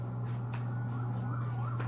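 An ambulance siren wails steadily at a distance, its rising and falling tone sustained throughout over a constant low hum outside a Las Vegas Hooters.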